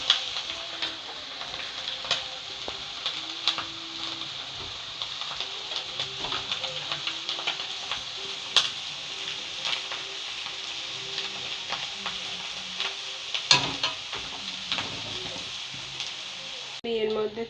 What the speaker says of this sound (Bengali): দেখতেই পাচ্ছি ডিমটা অ্যাড করে নিয়েছি। এবার চাউমিনগুলো দেবো।